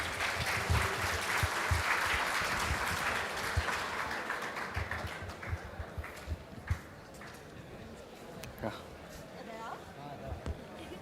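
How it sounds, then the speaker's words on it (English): An audience at a Google Cloud community day event in Indore gives presenters a round of applause, loud dense clapping at first that thins out into scattered claps, with talk and stray bumps later. "Can we have a huge round of applause,"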